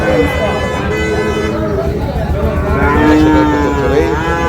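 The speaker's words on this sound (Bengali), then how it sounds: "আমরা দেখি এখানে একটি গরু রয়েছে" A loud, close cow moos in a long drawn-out call while people talk nearby at a cattle market.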